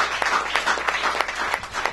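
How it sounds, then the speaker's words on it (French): Church congregation clapping at a Pentecostal anniversary service, a brisk patter of many hands with distinct sharp individual claps standing out, fairly close and steady throughout. "on va applaudir Moussaï"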